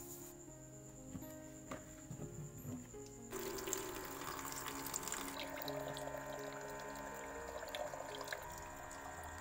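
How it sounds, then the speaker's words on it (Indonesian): Tap water runs steadily into a container for lemon-infused water, a continuous splashing hiss that swells louder partway through, with faint background noise. "ini mau aku isi air dulu ya"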